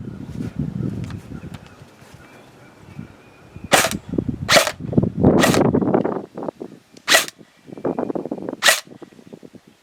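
A King Arms 9mm MPX SBR airsoft gun fires five sharp, separate outdoor shots at uneven intervals, each a crisp snap, amid quieter rustling and handling noise.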